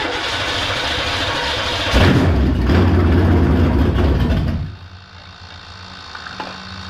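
An engine fitted with a 2-barrel carburetor runs at a steady rough idle, swells into a louder, deeper rumble for a couple of seconds, then drops back to a quieter, even idle.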